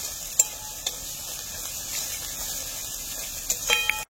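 Chopped ginger and garlic fry in oil in a pan outdoors at a village cooking spot, a faint continuous sizzle with occasional clinks and scrapes of a stirring spoon against the pan.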